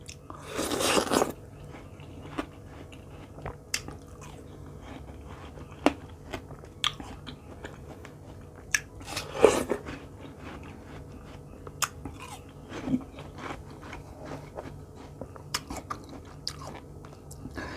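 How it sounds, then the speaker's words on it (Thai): Sweet watermelon being bitten and chewed close up, with a crisp bite at the start and another near the middle, followed by steady wet chewing and small crunches, and no talking. "อร่อย หวาน แตงโมค่ะ"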